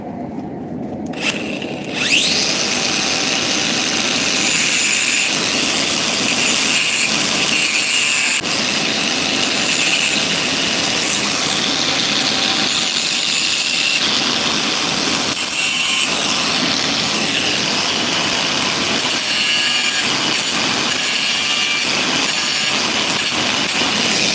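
A 4.5-inch angle grinder fitted with a cutting wheel cuts into a steel railroad spike, giving a loud, continuous high-pitched whine that rises and dips as the wheel bites, running steadily for the whole stretch.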